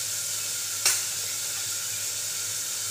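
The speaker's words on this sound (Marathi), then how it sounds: "गॅस बारीक करून ते चांगलं परतून घेतलं जाणार आहे" Chopped vegetables sautéing over a low gas flame give a continuous gentle sizzle, with one brief clink of a spoon early on.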